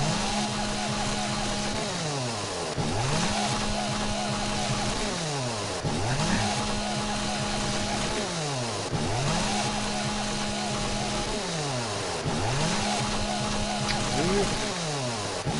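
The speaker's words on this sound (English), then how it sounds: "you probably couldn't even hear it over the chainsaw" A chainsaw in the video game 7 Days to Die runs steadily in a repeating revving cycle, loud and continuous throughout, with its engine whine rising and falling about every two seconds.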